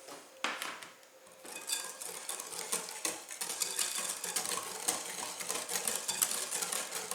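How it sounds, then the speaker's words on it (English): Cake batter for a lemon loaf whisked by hand in a bowl, a fast continuous scraping, clicking rhythm close by that builds slightly and runs steadily without talk. "Whisk, whisk, whisk."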